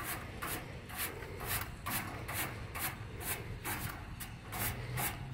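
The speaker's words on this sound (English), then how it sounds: "I'm gonna use this brush and brush up, and you can see all the dirt coming off of there" A stiff dry brush scrubs dust and dirt off an outdoor air conditioning unit in quick, steady back-and-forth strokes, close up and fairly faint, with a regular rasping rhythm.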